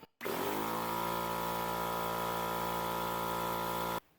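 An air compressor motor kicks on abruptly and runs at a steady, loud, droning pitch for several seconds while building pressure, then cuts off, with no talking.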